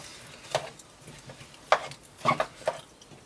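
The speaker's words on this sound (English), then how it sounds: "you're going to place your apples in. And you're going to mix it around in here." Sliced apples stirred in melted butter in a pan, a few scattered close scrapes and knocks of a utensil against the pan with quiet gaps between, no talking.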